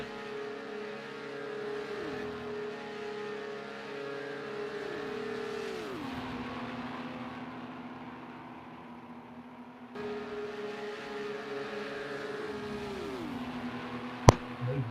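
LMP2 prototype race cars in a racing video game on the Le Mans Vintage track run flat out down the back straight in a close train, sustained high engine drone with gear shifts and a sharp click near the end, without talk.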